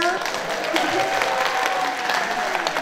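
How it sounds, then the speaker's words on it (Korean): Applause from an audience at a Busan civic concert with an orchestra and an electric violinist, steady dense clapping through the whole stretch, with a faint sustained tone and some crowd murmur underneath. "그 신난 만큼 다시 한번 박수 주실래요?"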